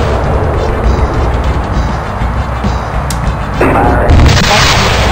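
In the Fighters Anthology flight-sim game, a continuous roaring jet-engine rumble is followed by a sudden louder blast of missile fire aimed at anti-aircraft artillery, with a burst of explosive noise near the end.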